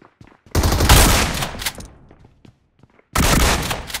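Loud, rapid automatic rifle fire in the PUBG mobile game on an iPad Mini 6, one long burst followed by a second burst after a short pause.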